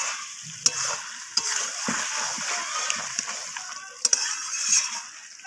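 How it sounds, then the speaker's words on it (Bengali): Almond and raisin paste fries in a pan for a chicken curry, a continuous moderate sizzle broken by sharp utensil scrapes and clinks against the pan. "তো আমি বাদামের পেস্টটা দিয়ে আমি আবারও কষিয়ে নিচ্ছি।"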